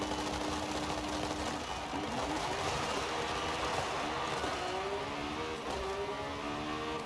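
Lamborghini Revuelto engine in Forza Horizon 5, a steady high-pitched buzzing drone with rising revs and gear shifts, heard alone without talk.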